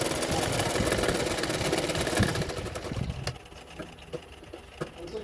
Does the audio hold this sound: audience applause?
no